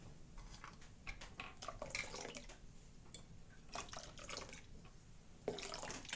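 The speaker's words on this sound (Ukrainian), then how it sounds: "В кутю додаємо свячену воду" Light splashing and trickling of holy water poured in short bursts into a bowl of kutia, close by, with small drips between pours and no talking.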